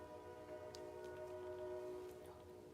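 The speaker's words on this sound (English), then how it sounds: "Train. Horns going off." Train horn sounding steadily from a moderate distance, a sustained multi-tone blast that holds for nearly three seconds over low background rumble.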